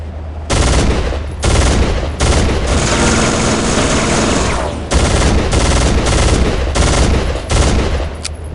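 Loud sustained gunfire in Soldier of Fortune 2, aimed at a helicopter's rotors, comes in long bursts separated by brief gaps, with a low rumble underneath.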